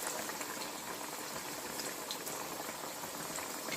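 Three Peshawari chapli kebabs fry in a pan of oil, giving a dense, even, bubbling sizzle that holds steady throughout, close and alone without any voices.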